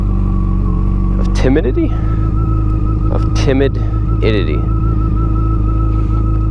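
A 1300 cc motorcycle engine idles and runs with a steady low drone close by, with a voice talking over it throughout.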